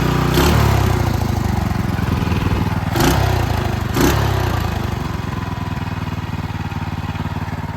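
A motorcycle engine runs steadily during break-in after a rebuild, a loud continuous throbbing drone with a few brief revs near the start, heard up close without talk.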